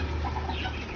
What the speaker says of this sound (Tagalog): Breeder hen.